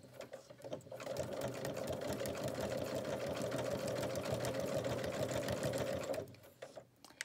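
A sewing machine hums in a steady, close run as it stitches quilt hexagons together, starting and stopping cleanly with no talk over it.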